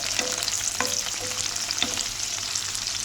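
Onions stirred into a tomato, broad bean and fenugreek curry in a pan give a constant close sizzle, with occasional soft scraping stirs and no talk.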